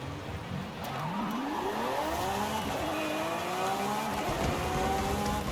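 Lamborghini Countach in Forza Horizon 5, fitted with weight reduction and new tires, its engine rising in pitch through several gear changes as it pulls hard, loud and close with no talk over it.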